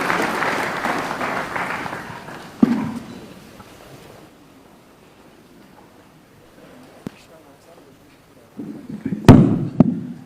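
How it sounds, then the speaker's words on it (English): Applause from a crowd at a national conference fades out over several seconds, leaving a quiet room, then a short burst of clapping and thumps returns near the end. "Let's put another round of applause"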